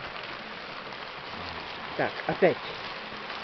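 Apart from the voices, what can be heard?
heavy rain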